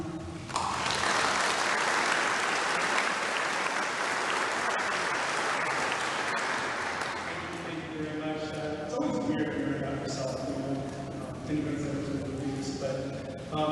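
Loud, sustained audience applause at a summer nursing pinning ceremony welcoming Dr. John Meyer, a dense clapping wash for about seven seconds that thins as music-like tones rise beneath it.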